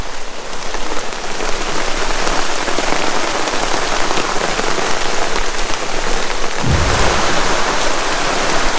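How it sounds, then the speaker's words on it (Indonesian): Heavy rain pours onto a new camping tent at night in a storm at a misty campsite, a dense, loud, unbroken hiss of drops drumming the fabric, with a low rumble of thunder swelling near the end. "Dan hujannya makin deras ya. Mudah-mudahan sih nih tenda baru aman nih dari hujan."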